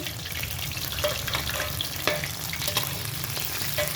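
Chicken skin fries in hot oil with a dense, close sizzle and bubbling crackle, with occasional stirring scrapes over a steady frying hiss.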